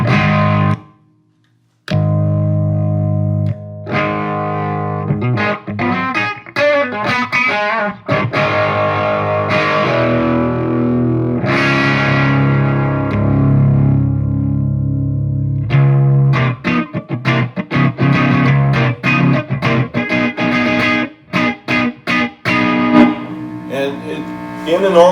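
A distorted electric guitar through a Soldano SLO-100 tube amp plays loud chords and riffs, with sustained crunchy, compressed notes, a short pause near the start, and choppier strummed passages later.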